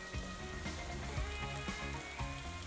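Onion, garlic and bacon fry together in a pan, giving a steady, close sizzle that runs continuously with a few soft pops and clatters.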